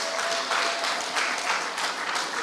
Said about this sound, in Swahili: makofi kwa PS.